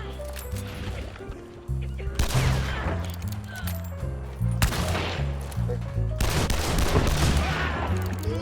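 Spark rifle bursts in a shooter game, three loud rolling volleys of crackling fire over a low droning musical score.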